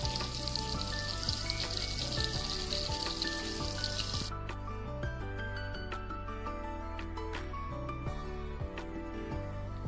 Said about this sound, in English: The koftas have fried into a very beautiful golden brown color.